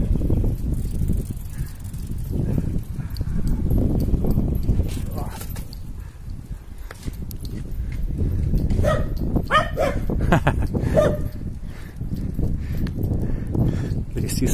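Dogs bark a few times in the distance beneath steady outdoor noise and a voice talking over it.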